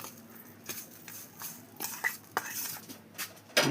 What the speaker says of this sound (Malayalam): ഇനി അതൊന്ന് മിക്സ് ചെയ്ത് കൊടുക്കാം